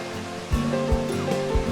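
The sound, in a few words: waterfall of the Reedy River at Falls Park, Greenville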